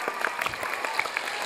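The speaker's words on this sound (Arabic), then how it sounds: "يلا تصفيق عليها، تصفيق عليها" Children and families at a live children's show in Boumerdes clapping for a young girl, a short burst of scattered, moderately distant applause with faint voices underneath.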